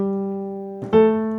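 A sustained piano note held legato, then a short detached note struck near the end, both clear and close in a quiet room.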